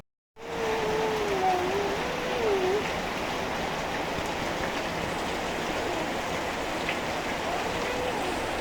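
Heavy rain falls in a steady, dense hiss that stays loud and even from start to finish, with a faint wavering tone drifting through the first few seconds.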